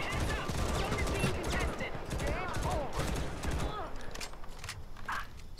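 Gunfire in the mobile shooter Modern Combat Versus, rapid bursts of shots and clattering footsteps mixed together while someone talks over the action.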